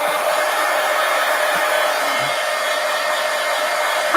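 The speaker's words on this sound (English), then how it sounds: "let's heat dry this" A heat gun runs with a steady, even whoosh of blown air, close and continuous, while it dries a collage journal page.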